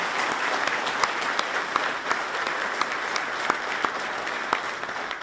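An audience at a sheriff's office first responders appreciation event applauds the event sponsors, with steady, dense clapping and a few sharper individual claps standing out, continuous and fairly loud throughout.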